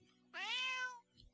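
A cat meows once in the video game South Park: The Stick of Truth, a clear, rising-then-falling meow of under a second, heard alone with faint background.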